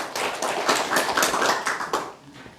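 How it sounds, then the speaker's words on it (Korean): A church congregation claps along during a sermon, a brisk run of rhythmic handclaps at moderate volume lasting a couple of seconds before fading. "박수, 박수, 박수, 박수."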